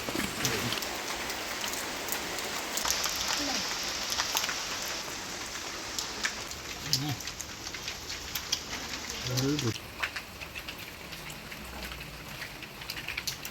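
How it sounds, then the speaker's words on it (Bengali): Steady rain on a stormy night patters on a surface with scattered louder drops, while a couple of brief voice sounds come through faintly. "দেখো খাওয়ার সময় বৃষ্টি এসে গেছে"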